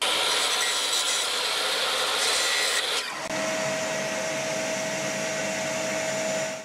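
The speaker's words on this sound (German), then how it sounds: "Das machen wir mit der Kappsäge." A mitre saw cuts a 45-degree angle through a piece of wood, with a loud, steady whine and grinding bite that briefly dips, then carries on and winds down at the end.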